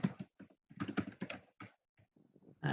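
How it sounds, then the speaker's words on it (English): Computer keyboard typing picked up loudly during a city council work session, a quick run of irregular clacks and taps in uneven bursts with short pauses, close and fairly loud, with no talking. "Somebody's typing and it's very loud."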